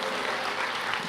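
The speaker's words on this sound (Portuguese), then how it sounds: "Vocês podem aplaudir?" Church congregation clapping for a young woman invited forward, a steady dense wash of many hands for a brief moment, with no speech over it.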